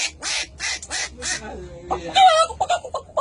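A man imitates a cuckoo call with his voice, producing short repeated breathy bursts followed by a warbling, whistled bird-like phrase, loud and close.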